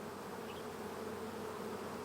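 Honeybees in a new nuc hive give off a dense, continuous buzz, steady and close with no pauses.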